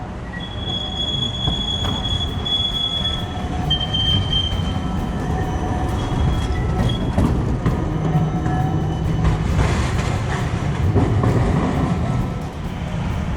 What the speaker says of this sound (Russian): Трамвай куда сейчас сюда повернет